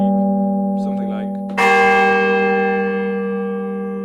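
A synthesized bell-tower preset from a synth, used as a big first hit for a trap drop: one loud, bright, ringing strike lands midway after a quieter sustained tone, then rings out with a slow decay.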